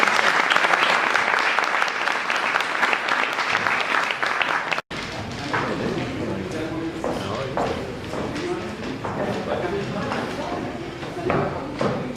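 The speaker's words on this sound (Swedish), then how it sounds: "Ni får en applåd till och ett stort tack." A conference audience gives dense, loud applause for about five seconds that ends abruptly. Talk with scattered clatter and footsteps follows.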